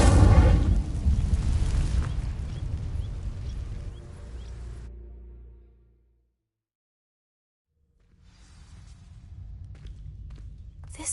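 An Incendio fire spell in Hogwarts Legacy ignites dry vines with a loud booming whoosh that rumbles and fades to silence, then a softer crackling texture returns.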